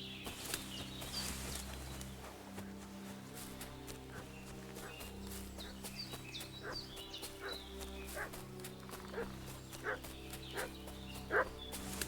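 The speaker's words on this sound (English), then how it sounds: "What's that dog making such a fuss about?" A dog in the medieval video game Kingdom Come: Deliverance II barks and fusses at a distance, repeated barks and yips over a steady low game ambience with footsteps and hoof clops.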